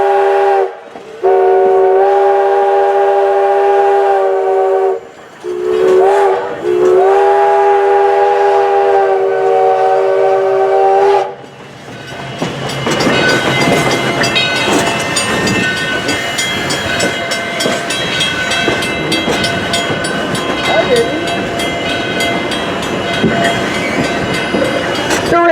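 Virginia and Truckee No.29 'Robert C. Gray' steam locomotive sounds its whistle loudly in several long blasts, then the train runs on with a dense, steady rumble of rolling wheels and working engine.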